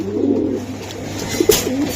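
An aluminium-coloured Giribaz pigeon coos up close, a loud rolling coo at the start, then quieter murmuring and two short sharp accents near the end.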